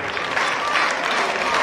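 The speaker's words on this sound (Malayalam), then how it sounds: "എല്ലാവരും ക്ലാപ്പ് ചെയ്യുക" Applause from a crowd at a sub-district school sports meet closing ceremony, a continuous wash of many hands clapping at moderate distance.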